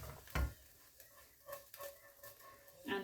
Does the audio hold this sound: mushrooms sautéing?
yes